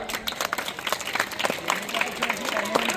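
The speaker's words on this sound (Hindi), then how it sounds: "जोरदार तालियां।" Audience clapping at a school prize distribution ceremony at an Urdu high school in Bhusawal, a steady patter of many hands at moderate level with scattered voices mixed in.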